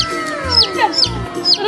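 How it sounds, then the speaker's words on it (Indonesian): Chickens being caught by hand and put into a coop, giving several loud, close clucks and squawks in quick irregular bursts. "ini tangkepin ayamnya"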